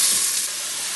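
Loud, steady broadband hiss of garlic, tomato and onions sautéing in hot oil in a big pot, a continuous close sizzle that eases slightly after the first moment.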